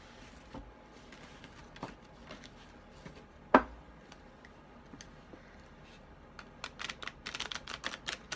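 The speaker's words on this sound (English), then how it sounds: "this is a very big deck and it's very hard to shuffle" A large deck of tarot cards being shuffled by hand gives quiet, scattered clicks and riffling snaps, with one sharper slap midway and a denser burst of card flutters near the end.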